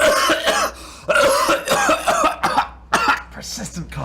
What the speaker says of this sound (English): Persistent cough.